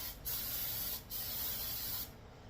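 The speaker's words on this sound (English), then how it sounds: "always have a backup can of Baker's Joy. Just give this thing a nice liberal coating everywhere, even the middle part." A can of Baker's Joy baking spray hisses out in two close, steady bursts as it coats a cake pan for a pound cake, each spray cut off by a brief pause.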